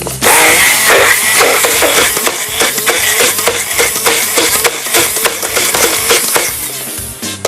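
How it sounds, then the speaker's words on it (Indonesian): A kitchen machine grinds mushrooms down to a fine paste for a vegetarian Minang-style rendang, giving a loud, steady motorized whir with rough, choppy bursts and clatter throughout, no voices. "kita akan bawa ke belakang dan kita akan menghaluskannya sampai halus"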